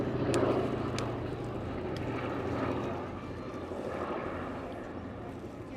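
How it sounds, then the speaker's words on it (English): A Boeing B-17 bomber arrives over the Dunsfold Wings and Wheels 2018 air show, heard as a faint, distant low piston-engine drone with broad outdoor rumble that swells and eases slightly. "So the B-17 coming in, flown by Peter Kuipers"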